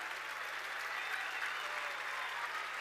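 An audience applauds the speaker Luca Perri at a talk on space exploration to Venus and Mars, with dense, steady clapping that holds even and unbroken throughout.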